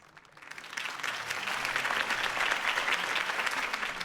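Crowd applause for Harvey Dent's campaign speech in the Batman Telltale Series game, swelling up from a quieter start into a dense, steady wash of many hands clapping that holds through to the end.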